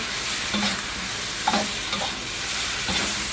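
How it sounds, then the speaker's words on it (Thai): Seafood, bell pepper and cucumber being stir-fried for sweet and sour seafood, with a steady close sizzle and a few spatula scrapes and stirs against the pan. "จากนั้นเราก็ใส่พริกหยวกลงไปนะคะแตงกวาค่ะ แล้วก็ผัดให้เข้ากันนะคะ"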